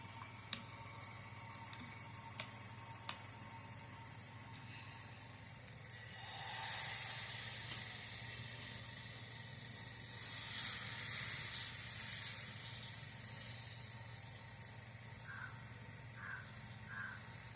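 Maida dosa batter poured onto a hot pan hisses and sizzles, a steady frying crackle that swells louder partway through and then settles, with faint clicks near the end.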